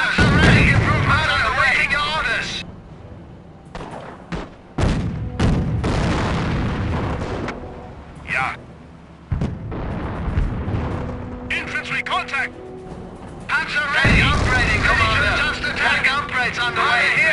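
Gunfire and artillery fire in a World War II squad tactics video game, with repeated booms and bursts of shots, loud and near, under continuous radio-style voice callouts and soldiers talking throughout.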